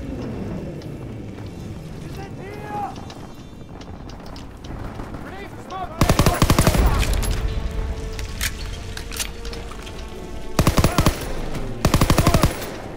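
Automatic gunfire from a weapon in Call of Duty WW2 bursts loud and dense in the second half, with several sharp volleys ending in short repeated bursts, while someone talks over game sounds throughout.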